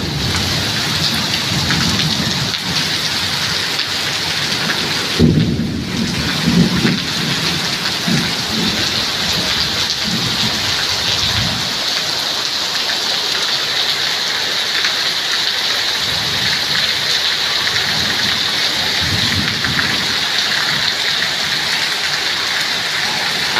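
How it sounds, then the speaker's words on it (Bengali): Heavy rain pours down in a steady, dense roar on surfaces, with a low rumble of thunder rolling through partway along, continuous and loud throughout. "এত পরিমাণ গরম পড়ছে তার কারণে আল্লাহ রহমত থেকে বৃষ্টি দিয়েছে"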